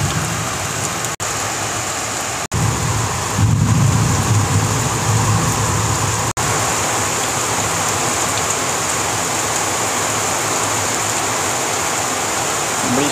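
Steady heavy rain pours down outdoors in West Bengal, a loud, continuous close hiss with a few sharp clicks and a brief low rumble, without distinct thunder claps.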